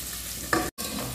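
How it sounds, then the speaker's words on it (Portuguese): Calabresa sausage and bacon fry in a pan for a Christmas farofa, a steady close sizzle with a brief stirring scrape, a short dropout, then the sizzle resumes. "Aqui dentro e vou dar uma fritadinha aqui também."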